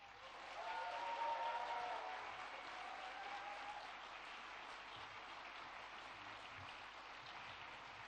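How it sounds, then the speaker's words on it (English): Graduation ceremony audience giving a long round of applause, swelling in the first seconds and then holding steady as a dense, even wash of claps. "can you please give a huge and rousing round of applause?"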